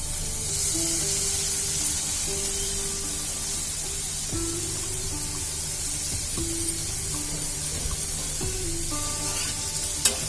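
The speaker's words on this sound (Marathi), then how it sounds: "आता आपण यामध्ये भारूची भाजी टाकणार आहोत" Bharang leaves sizzle steadily in a hot pan while being stirred, a continuous close frying hiss with occasional scraping, no voices.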